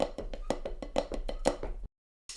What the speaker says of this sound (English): if I switch the Flam to the third partial, it would sound like this.